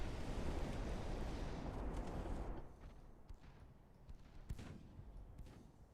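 Torpedo explosions in the naval warfare video game Ultimate Admiral: Dreadnoughts, a heavy rumbling roar that fades after a few seconds, followed by a couple of fainter distant booms.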